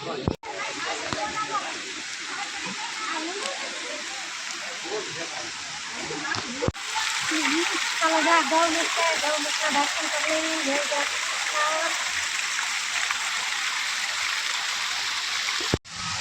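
Water pouring down at the Gaumukh temple, a continuous rushing splash heard nearby under people talking throughout.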